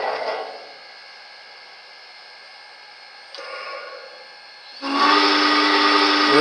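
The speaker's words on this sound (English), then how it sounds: "There's your whistle." A loud train steam whistle blows in long sustained blasts, a shrill hissing tone that drops away briefly and then returns even stronger.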